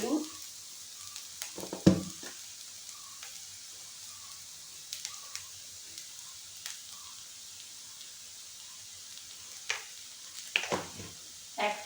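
Vegetables frying in a pan with turmeric, a soft steady sizzle broken by a few clattering stirs of a spoon against the pan, close and fairly quiet.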